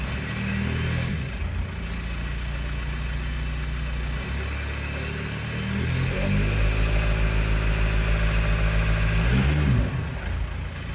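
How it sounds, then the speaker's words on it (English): A Mk4 Jetta TDI diesel with a leaking exhaust runs loud and close, a deep truck-like drone rising as the turbo spools, with a thin whistle near the end and no talk. "There's your turbo spool."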